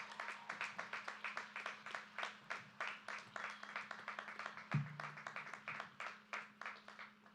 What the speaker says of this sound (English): I expected you to have a louder cheer.